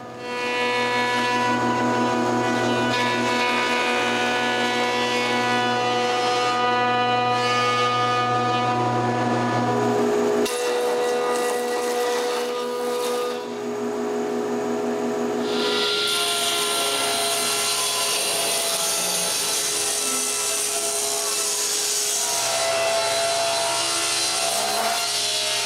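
Power planer shaving a wooden board, a loud continuous motor drone with shifting pitch as the cut changes, running steadily throughout with brief changes in load.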